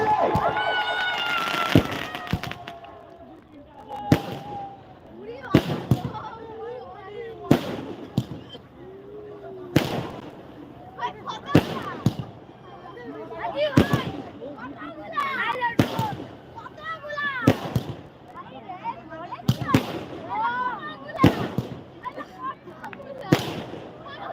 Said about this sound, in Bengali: আমাদের এই আতসবাজি অনুষ্ঠান চলছে